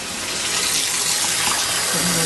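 About a cup of water poured into a pressure cooker pot holding tamales, a loud, steady gushing splash close by with no talking.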